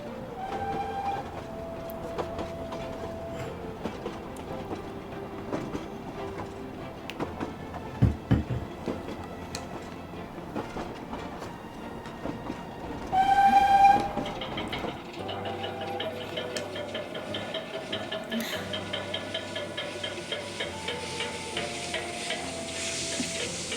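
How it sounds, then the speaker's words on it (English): A train rolls past in the video game Of Sense and Soul, a steady rumbling clatter of rail cars running the whole length, with a brief louder burst midway and a sustained whistle-like tone, no talking. "Chugga chugga choo choo."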